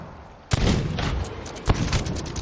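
Gunfire erupts in the Sea of Thieves video game as phantoms fire back at a ship at sea, two sharp booming reports about a second apart over a rumbling background.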